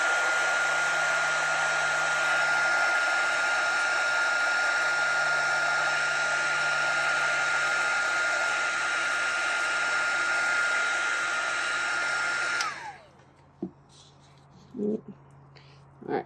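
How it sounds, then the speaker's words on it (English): A heat gun blows steadily and loudly over resin for a fall leaf craft, a constant whooshing roar with a high whine that cuts off abruptly near the end, leaving quiet room sounds and a few small clicks. "Sometimes you can do it with the heat gun."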